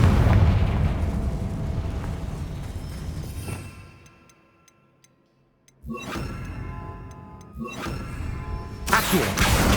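A spell blast in Hogwarts Legacy bursts with a heavy, rumbling explosion at the start that fades into quiet, followed by further booming magic effects and game noise, with no talk.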